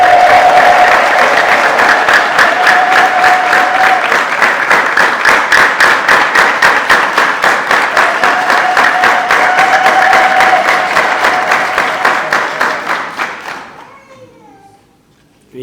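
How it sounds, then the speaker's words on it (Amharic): An Ethiopian Orthodox church congregation ululates in loud, sustained trilling tones over steady rhythmic hand clapping, which keeps an even beat before fading away near the end. "በምስጋና የተሞላ የእናንተ እልልታ በጣም ያንሳል"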